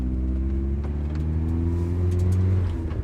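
A turbocharged Mazda MX-5 Miata on its first drive, its engine revving with a deep, steady rumble that climbs gradually in pitch, heard loud and close with no voices.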